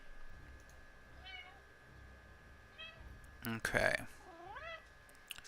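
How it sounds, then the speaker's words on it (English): A pet cat meowing indoors: several separate meows with rising and falling pitch, one louder and longer in the middle. A person says a brief word as well. "Now my cat that you guys have seen on stream, this guy right here, he's a good boy."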